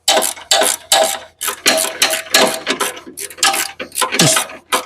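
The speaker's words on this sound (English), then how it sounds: "wrenching towards that alternator mount" A ratchet wrench works on the alternator mount of a 1983 Mustang GT Foxbody with a big-block engine, giving about ten close, loud bursts of clicking strokes in an uneven rhythm, with short pauses between pulls.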